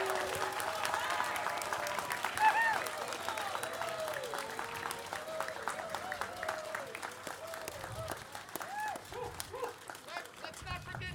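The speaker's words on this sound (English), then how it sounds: "Big round of applause for all of them." Outdoor crowd applause on the steps of San Francisco City Hall at a grand opening, scattered clapping mixed with cheering voices and chatter, fairly distant and uneven.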